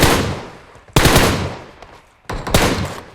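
PUBG gunfire comes in three loud, close bursts of rapid shots, each cracking sharply and tailing off, the second and third following after short gaps.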